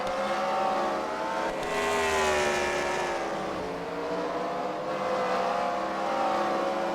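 Race cars circle a short track during a CWRL Fight Night event at The Freedom Factory, engines droning steadily and loudly with rising and falling pitch as cars chase each other through the laps, with no talk over it.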